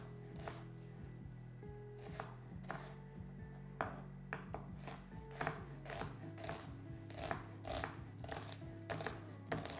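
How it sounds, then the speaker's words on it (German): Knife chopping onions into small cubes on a cutting board, a steady run of close, crisp taps that comes in quick bursts, with no talk over it. "aber erstmal die Zwiebeln kurz in kleine Würfel schneiden"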